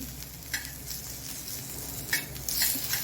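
Stuffed okra sautéed over low heat in a pan, a close crackling sizzle with a few sharp stirring scrapes near the end, no voices.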